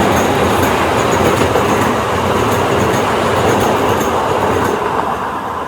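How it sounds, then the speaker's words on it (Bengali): A passenger train pulls into Balasore station in Odisha, a loud continuous rumble of wheels and carriages with faint clatter and high squeals that eases off slightly near the end. "আপনাদের সঙ্গে কথা বলতে বলতে আমাদের ট্রেন ঢুকে গেল"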